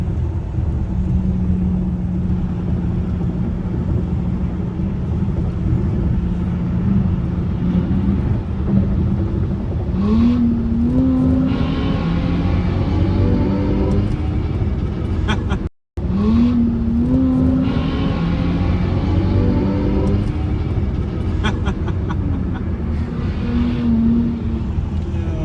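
A 2026 BMW iX xDrive60 electric SUV drives and accelerates on the road, with a steady loud road and wind rumble and a rising whine as it speeds up, briefly cut out midway.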